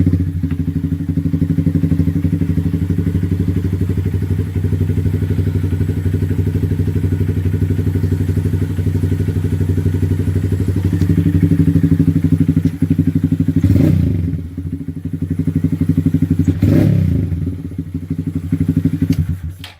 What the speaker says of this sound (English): Let's start the bike up real quick so you can just get a little listen to it.